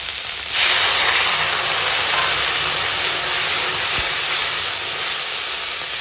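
Water poured into a hot pan of spiced fish sets off a sudden loud hiss and sizzle that swells at once and holds as a steady, strong steaming rush, with no voices.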